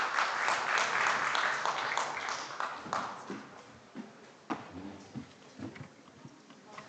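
A small audience at a civil society forum session claps, starting as dense applause that thins into scattered individual claps toward the end, moderately near.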